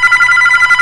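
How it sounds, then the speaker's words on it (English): A telephone rings inside a Roblox game, a steady electronic trill repeating in quick even pulses, loud and close with no talking over it. "Guys, the phone is ringing."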